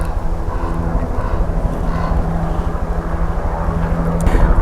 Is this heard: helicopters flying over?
yes